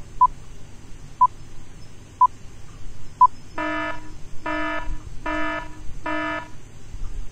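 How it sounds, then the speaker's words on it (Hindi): A quiz buzzer in a Quran quiz show, preceded by four short evenly spaced beeps a second apart, then four loud harsh buzzes in quick succession over a low background hum. "ये बजर बजा"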